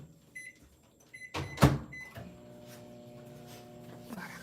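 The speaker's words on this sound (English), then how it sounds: "so I'm going to stick these in the microwave again." Near the middle, a microwave door clunks shut and buttons beep, then the oven hums steadily while re-melting candy melts. Earlier there are faint clicks and a soft tone.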